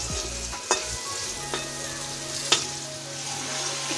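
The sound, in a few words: potato and pointed gourd sautéing with spices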